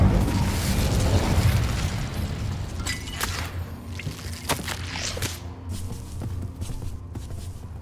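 A fire spell is cast in Hogwarts Legacy with a loud whooshing burst, then crackling fiery pops and a few sharp bursts that slowly fade.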